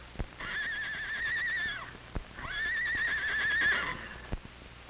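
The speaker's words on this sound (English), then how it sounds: "Charlie and Nellie from Mr. Mardell's ranch are running away." Two long, loud horse whinnies one after another, with a few dull hoof thuds between them, as horses flee a burning barn.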